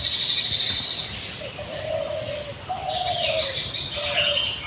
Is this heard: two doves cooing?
yes